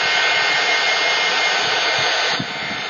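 A dryer blowing on an art journal page, a loud continuous whooshing hum held close for the whole clip, easing slightly at the end.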